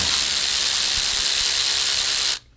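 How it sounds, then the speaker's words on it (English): A Snap-on ratchet wrench turning, a loud, continuous mechanical whirring that runs for about two seconds, then cuts off abruptly. "Snap on ratchet wrench. Doesn't have a whole lot of power, but it gets the job done."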